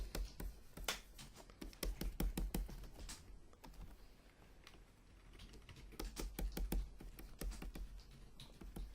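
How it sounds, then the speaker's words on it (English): Rapid computer keyboard typing and button clicks made while drawing an orc on a computer, with irregular bursts of close, crisp taps that run on throughout with short pauses and no talking. "Oops, it's alright, I'm clicking buttons."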